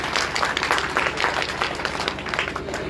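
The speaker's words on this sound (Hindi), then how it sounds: "एक बार जोरदार ताली बजाओ सभी" An audience at a talk on art and culture claps together in a dense, sustained round of applause, many hands at once, steady and fairly loud throughout.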